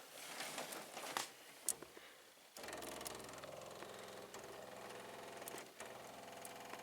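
Electric fuel pump on a worn AMC 401 Jeep V8 priming after the key is turned on, a steady close buzzing chatter that runs for several seconds with a few sharper clicks along the way.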